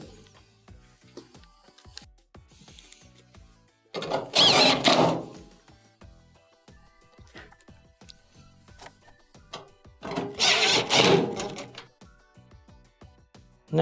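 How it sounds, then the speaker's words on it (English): A power driver sets screws into the top panel of a Maytag dryer during a drum repair, two loud whirring bursts of a few seconds each, separated by quieter clicks and handling noise. "Reattach your top 3 1/4" screws."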